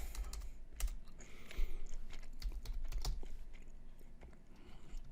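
Keys clatter on a computer keyboard in an irregular burst of close clicks and taps, with some louder presses and short pauses, heard alone with no talk.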